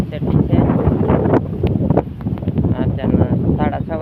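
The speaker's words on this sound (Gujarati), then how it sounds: "અત્યારે પવન બહુ છે મિત્રો." Strong wind buffeting the microphone outdoors in a farm field, a continuous loud roaring rumble with someone talking over it.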